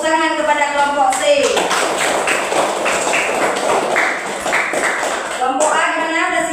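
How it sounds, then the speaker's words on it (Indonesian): Classroom applause for a student group during an Islamic religious education lesson, a burst of many hands clapping close by, steady and dense for several seconds, with voices talking before and after. "tepuk tangan kepada kelompok C."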